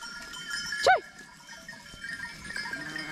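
A single sheep bleats once, short and fairly close, during herding in the Bolu mountains; faint farm ambience and distant sounds fill the rest.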